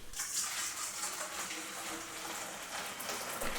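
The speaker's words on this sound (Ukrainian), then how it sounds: "Потім я його просто промиваю під проточною водою." Steady rush of running tap water, continuous and fairly close, with splashing as a kettle is rinsed under the stream.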